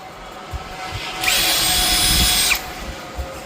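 A 20V cordless industrial impact drill machine runs in a single steady, loud, high-pitched whirring burst of about one and a half seconds, starting and stopping abruptly against a quiet background hum.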